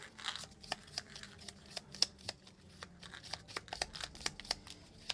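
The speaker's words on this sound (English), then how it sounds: "I will shuffle this and put it back." Board game cards being shuffled up close, a quick run of crisp riffles and snaps at a steady, busy rhythm over faint room tone.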